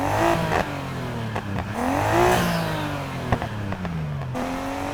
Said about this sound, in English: I'm not sure what type of car they recorded, but it really seems to be a single turbo car.